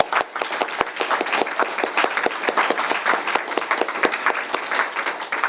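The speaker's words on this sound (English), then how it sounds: "Let's give a round of applause." A panel audience at a left-wing politics event claps steadily, a moderately loud, close round of applause made of many distinct hand claps, with no speech over it.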